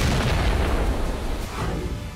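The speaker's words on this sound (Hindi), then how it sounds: "रिहायशी इलाकों पर बमबारी, हमास के ठिकानों पर हमला" Bombing over a residential area of Gaza, heard as a dense, rumbling roar of blasts with heavy low-end booms, loud and continuous for a couple of seconds with no voices.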